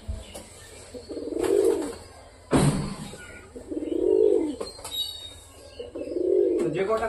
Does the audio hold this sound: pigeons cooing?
yes